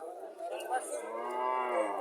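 Friesian dairy cow on a dairy farm in Comilla mooing once in a long, drawn-out call, close and fairly loud, with no talking over it.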